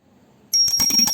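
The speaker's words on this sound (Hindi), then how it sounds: "तो अब हम घंटी बजाकर कर लेंगे आरती।" A small hand bell rung for aarti worship starts after a brief quiet moment, its bright metallic ringing repeating rapidly and close by.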